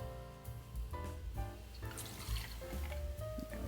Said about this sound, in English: We are going to use 2 full ounces of the Rossville, and we will pour that right into our mixing glass.